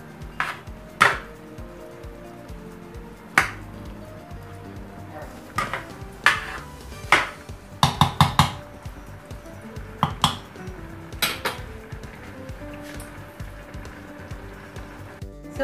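A pot of food is stirred during a big batch of cottage pie, with scattered metallic clinks and scrapes of a utensil against the pan, some sharp and close, spread irregularly over a quiet kitchen background.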